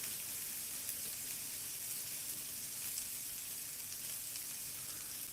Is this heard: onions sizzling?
yes